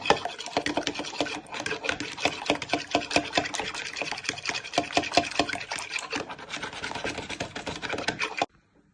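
Eggs with vanilla extract are stirred briskly in a bowl for brownie batter, a rapid, steady scraping and tapping rhythm running for several seconds before stopping abruptly.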